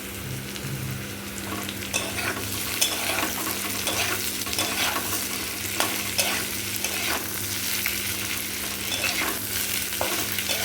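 Potatoes and chopped onion sizzle steadily in a hot pan while a utensil scrapes and stirs in irregular strokes, with a constant low hum underneath.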